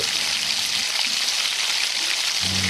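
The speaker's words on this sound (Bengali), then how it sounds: "এরপর আমি একই সাথে ওই কেটে রাখা লঙ্কাগুলোকেও ভেজে নেব।" Chopped chillies frying in a pan while making no-onion vegetable chowmein, giving a steady, close hiss and sizzle that holds the same level throughout.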